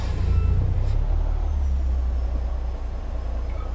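A heavy truck in American Truck Simulator rumbles steadily, with a broad hissing air-brake release layered over the low engine drone, loud and close with no talking.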